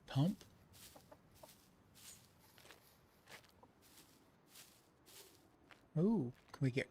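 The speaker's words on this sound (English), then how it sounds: "Sounds like we got a chicken we can eat too." Chicken clucking in the survival video game SCUM, a few short clucks near the start and again louder near the end, with faint footsteps and game ambience between.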